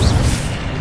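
A loud, brief booming whoosh of an Incendio fire spell in a Hogwarts video game, a single dense fiery burst lasting under a second.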